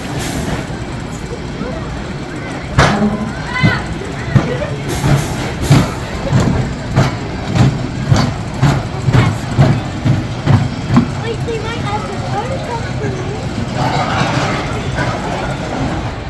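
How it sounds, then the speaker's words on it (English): A kiddie roller coaster, the Mini Mine Train at Six Flags Over Texas, rumbles and clacks along its track with regular rhythmic thumps, loud and close, with voices and squeals over it. "now I'm going to get a ride on Mini Mine Train"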